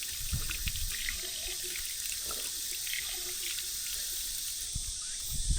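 Water running steadily from a natural drinking-water tap at an arboretum in Daegu, Korea, a continuous outdoor splashing flow with no talk.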